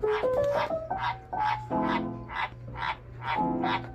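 A pet frog croaks in a room full of animals, a steady run of about nine evenly spaced, loud croaks with no talking over them.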